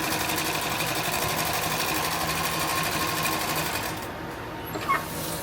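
Sewing machine stitching a tactical plate carrier with MOLLE webbing, a steady loud mechanical whir that runs for about four seconds, then stops into quiet with a faint click near the end.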